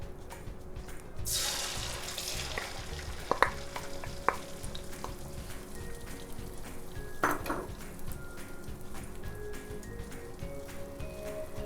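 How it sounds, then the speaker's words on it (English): Eggs hit hot oil in a clean wok over low heat and start sizzling, a steady crackling fry punctuated by a couple of sharp clinks of utensil against the pan. "I will put the egg into the oil."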